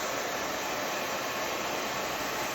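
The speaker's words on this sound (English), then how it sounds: "I'm going to come in with the blow dryer again." A blow dryer runs continuously on hair during a balayage session, a steady close whooshing hum of motor and airflow with no pauses.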